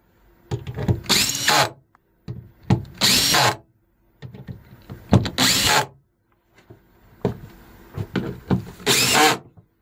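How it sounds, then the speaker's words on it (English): A power driver set to a low clutch setting tightens screws on a Lewmar hatch lens, running in four short, loud whirring bursts separated by brief pauses. "use the driver again. I have it set at 5 so it doesn't come down too hard on them."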